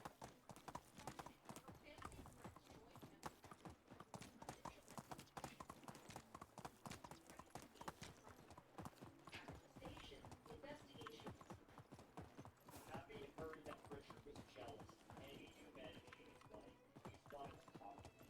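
A donkey's hooves clip-clop in a steady, brisk rhythm through a video game landscape, continuous for the whole stretch, with players talking over the sound.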